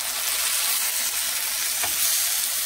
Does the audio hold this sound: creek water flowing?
no